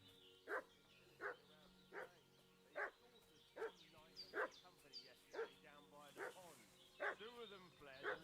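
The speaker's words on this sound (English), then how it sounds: "A dog is barking." A dog in Kingdom Come Deliverance II barks repeatedly at a steady, even rhythm, about a dozen moderately loud barks over quiet game ambience.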